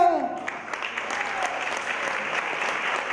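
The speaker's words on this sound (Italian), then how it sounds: "facciamo una prova applausi" An audience at a 2018 singing contest claps in a test round of applause, a dense, steady patter of many hands at moderate level, with a brief voice at the very start.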